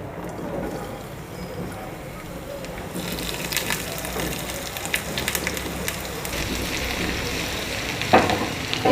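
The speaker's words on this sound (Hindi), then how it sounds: "जैसे ही हमारा ऑयल गर्म होता है तब हम इसमें ऐड करेंगे चॉप लहसुन और चॉप अदरक।" Chopped garlic and ginger sizzle in hot oil, a steady crackling fry that runs throughout, growing brighter and busier partway through, with a few sharper pops near the end.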